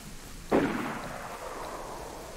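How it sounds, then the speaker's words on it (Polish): A sudden burst of steady rain noise swells in and keeps hissing evenly, a downpour starting in the game DayZ, with no voices. "O, deszczyk pada."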